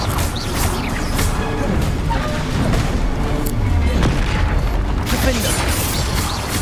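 Repeated Confringo blasting-spell explosions in Hogwarts Legacy, loud booming bursts and crashing impacts layered over busy game effects throughout.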